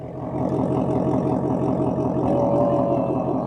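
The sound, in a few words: Ford Mustang Dark Horse V8 engine idling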